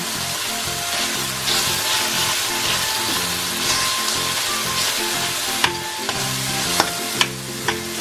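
Tomatoes sautéing in a little oil and being mashed with salt for an ampalaya sarciado: a loud, continuous sizzle with stirring, ending in several sharp utensil taps against the pan.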